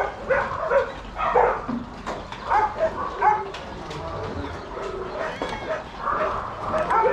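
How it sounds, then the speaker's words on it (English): Many dogs bark, yip and whimper together at an animal rescue shelter in Paphos, Cyprus, a busy overlapping chorus of near and distant calls, with a person's voice heard briefly among them. "Yes, lots and lots of dogs in there."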